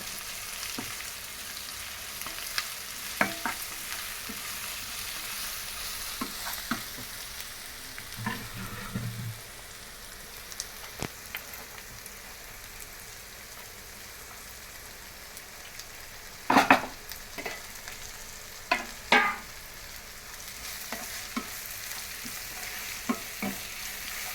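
Freshly cut gongura leaves fry in a pan for a paneer pulao, a soft steady sizzle under intermittent spoon scrapes and clinks against the pan, with a few louder stirring bursts near the end and no talk.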